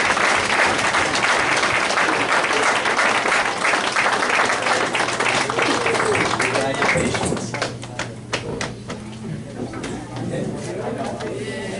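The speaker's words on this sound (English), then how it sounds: "Can I get a round of applause just for everybody?" A crowd at a Grant Park Hall of Fame ceremony applauds for everyone, loud dense clapping at first that thins midway, with voices talking and cheering over it.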